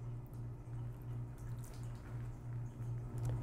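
Water is poured onto the sleeve of a water-repellent dress shirt over a towel. Faint, scattered drips and light splashes sit over a low, steady hum, quiet and close, with no talking.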